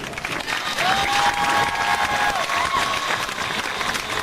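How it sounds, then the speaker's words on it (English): A crowd applauds at the Soledad High School class of 2003 graduation ceremony, with sustained, loud, dense clapping filling the hall, and a brief tonal squeal, likely microphone feedback, rising over it. "let's give Ms. Turner another round of applause"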